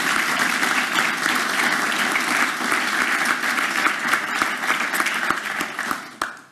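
Sustained applause from an audience at a formal speech fills the space, steady and dense for several seconds before tapering off at the end.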